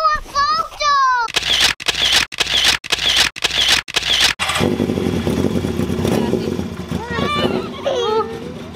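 A motor engine revs loudly several times in sharp bursts, then settles into a steady running drone, with a voice chattering at the start and end.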